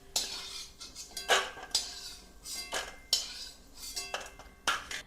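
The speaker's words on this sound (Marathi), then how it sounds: "आता चक्री फूल आपण हे काढून घेणार आहोत" Metal utensil clinks and scrapes against a pan as fried star anise is lifted out while roasting spices for black garam masala, a few close, sharp clatters with no talking.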